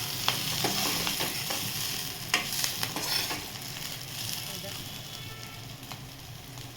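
Stuffed capsicum sizzling in a pan, a continuous crackling fry close by, with occasional clinks and soft scraping, and a voice faintly underneath.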